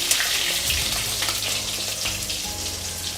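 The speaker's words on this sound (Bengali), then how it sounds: "এবার আমি সবগুলোকে ভেজে নিচ্ছি।" Whole flat beans and green peas fry in a wok, giving a loud, dense and continuous sizzle that stays even from start to finish, close up with no talking.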